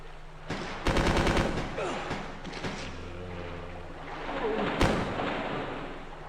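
Rapid automatic gunfire from Resident Evil 2 rattles out in loud, dense bursts, then eases into a quieter background rumble before a final sharp shot near the end.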